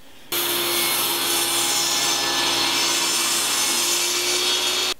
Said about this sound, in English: Now with this hole, I want to cut this board right down the middle of that hole.